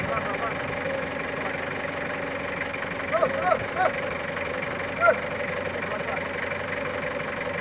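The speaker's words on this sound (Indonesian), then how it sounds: "Putar mesin." Boat engine idling steadily as the crew prepares a maritime security patrol vessel, a constant mid-low rumble with a few short knocks and clanks over it and occasional voices nearby.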